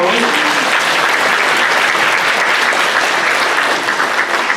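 A church congregation claps together in loud, dense, sustained applause that fills the whole moment without pause.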